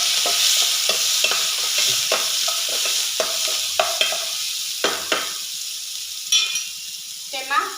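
Mustard seeds, green chili and garlic paste hit hot oil for batata vada, a bright continuous sizzle broken by repeated spoon taps and scrapes against the pan, with a few louder clinks toward the end.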